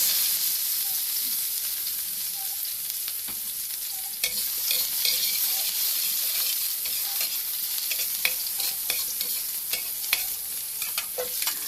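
Garlic and onion sautéing in reused frying oil, a loud steady sizzle and hiss with scattered scraping stirs from about four seconds on.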